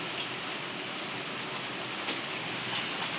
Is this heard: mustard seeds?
no